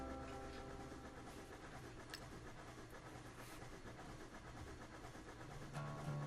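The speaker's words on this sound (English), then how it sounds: "Wait for the train to roll over our heads." A train rolls overhead in the Railworks train simulator, a steady close rumble with rail hum and faint clicking that builds slightly louder near the end, with no talking.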